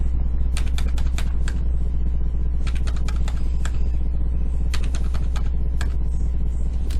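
Quick bursts of typing on a computer keyboard during Revit modelling work, short clusters of sharp key clicks separated by pauses, heard over a steady low hum from the room or computer.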